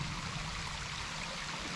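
Small hidden waterfall stream in the San Gabriel Mountains, a steady soft rush of flowing water heard faintly at a distance with no talking.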